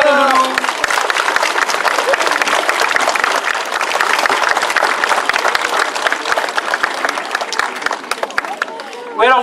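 An audience at an outdoor bear show in Châteaudun claps steadily and loudly for several seconds, with dense crowd applause and some murmuring voices, tapering off near the end.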